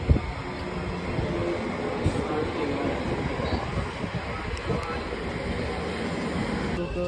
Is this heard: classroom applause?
no